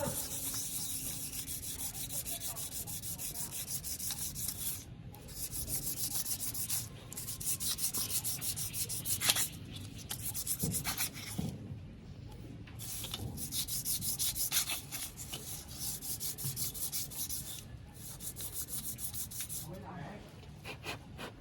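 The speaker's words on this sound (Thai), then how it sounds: "หรือจะขัดเยอะกว่านี้ก็ได้ครับ" Coarse rhythmic rubbing as sandpaper roughens the worn lining of a motorcycle brake shoe, close up, in repeated bursts separated by short pauses, with a voice talking faintly now and then.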